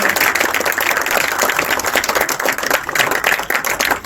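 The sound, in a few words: audience clapping at school prize ceremony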